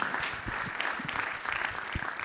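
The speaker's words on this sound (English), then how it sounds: "Yes, let's clap." An audience claps at a Guinness Women's Six Nations event in a continuous burst of many hands applauding, moderately loud and steady from start to finish.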